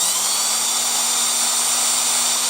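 A small drill bores a hole in the centre of a Bruder CAT telehandler model body part, giving a loud, steady high-pitched whine that holds without a break for the whole stretch.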